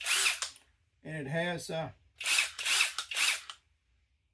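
A Makita DDF487 cordless drill from Alibaba spins up in three short whirring bursts, close and clear, with someone talking briefly between them.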